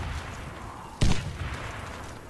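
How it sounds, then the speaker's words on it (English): In a ranked Warface match on the Bridges map, one muffled grenade blast thumps once midway, short and fairly distant, against a low, quiet background with no further shots clearly standing out. "Grenade out! Fire in the hole!"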